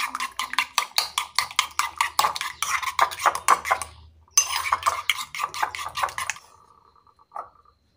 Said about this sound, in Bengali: দিয়ে ভালো করে ডিমটা ফেটিয়ে নেব